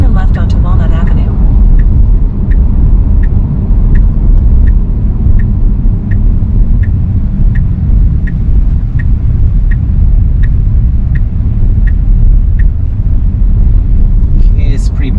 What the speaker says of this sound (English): it's a pretty bumpy road with bad curves